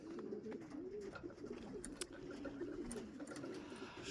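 Racing pigeons coo continuously outside a loft in Lithuania, a low, warbling, rolling murmur from several birds close by, with faint small clicks and rustles scattered over it.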